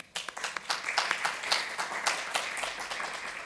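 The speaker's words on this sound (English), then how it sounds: "Let's give him a round of applause." A small audience at a Mozilla weekly project meeting gives a short round of clapping, fairly close and crisp, rising quickly and thinning toward the end.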